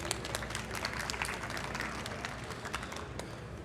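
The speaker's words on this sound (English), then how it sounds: "How about a round of applause for Stephanie?" Audience applause for a participant during a live photography lighting demonstration at CES: dense crowd clapping at moderate volume, heard from some distance under a faint murmur of voices, steady throughout.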